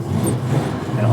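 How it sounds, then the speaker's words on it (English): Mazda Cosmo sports car pulling away in first gear after the emergency brake is released, its engine droning steadily and rising slightly, heard from inside the cabin. "Release the emergency brake. First gear. And off we go."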